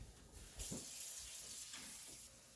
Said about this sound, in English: Next, I'm going to rinse my rice